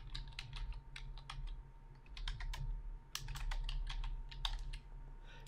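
Rapid bursts of typing on a computer keyboard, with clustered clicks and short pauses over a low steady hum, close and fairly quiet, with no talk.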